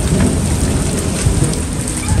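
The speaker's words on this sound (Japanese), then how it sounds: "雷が危ないね。" Heavy rain pours down steadily during a thunderstorm at an outdoor farmers' market, a loud, dense wash of downpour with deep low rumbling beneath it and no voices.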